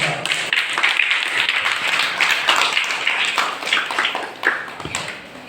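A crowd applauds loudly and steadily at a patriotic public speech event, dense clapping sustained for several seconds before easing slightly toward the end.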